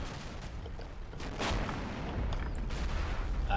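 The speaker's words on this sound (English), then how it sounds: "We've got a barrage coming in around here." Artillery barrage in the wartime strategy game Combat Mission Final Blitzkrieg: low, rumbling booms and scattered blasts roll in, then the bombardment swells into a steady, louder roar toward the end, with no voices over it.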